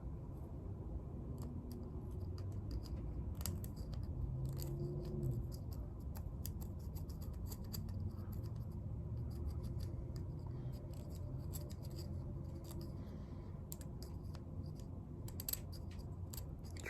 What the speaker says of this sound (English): we can start scraping away some of this hard paint that's accumulated inside the nozzle